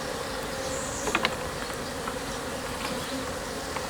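Honey bees drone steadily in a queenless hive box, a continuous close buzz with a few louder passes near the start.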